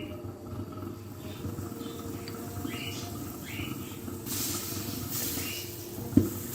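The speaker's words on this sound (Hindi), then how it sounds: "थोड़ा सा सॉस पैन को गर्म कर लें और उसमें मक्खन, ताज़ा घर का बना हुआ मक्खन" Fresh homemade butter heats in a hot saucepan with a faint, steady hiss that swells briefly into a slightly louder sizzle near the end.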